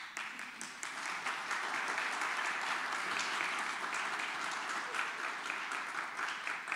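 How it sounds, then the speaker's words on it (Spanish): Sustained, fairly faint clapping from an audience at a Spanish-language lecture on post-revolutionary and contemporary Mexico, an even wash of hands heard at some distance. "Un aplauso para las sedes."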